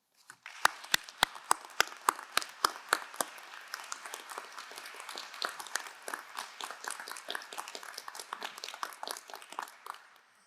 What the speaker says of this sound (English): please join me in a round of applause in recognition of her leadership of the Tepper School.